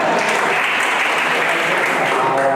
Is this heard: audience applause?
yes